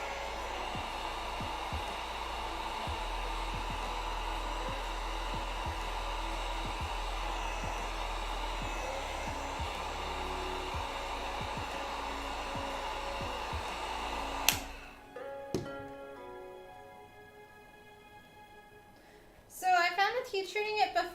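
A heat gun blows steadily for about fifteen seconds while heat treating craft foam for cosplay armor, a close, continuous airy roar that cuts off abruptly, followed by quieter handling noises and a brief burst of sound at the end.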